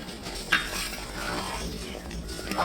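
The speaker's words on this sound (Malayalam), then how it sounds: "നമ്മുടെ പരിപ്പും ഗോതമ്പും കൂടെ വേവിച്ചത് ഇട്ട് കൊടുത്ത് നന്നായിട്ട് ഇളക്കി റെഡിയാക്കണം" A spoon stirs cooked lentils and wheat through hot ghee in an uruli, a heavy traditional vessel, giving soft scraping and clinking against the pan with a brief sharper knock early on, close and steady throughout.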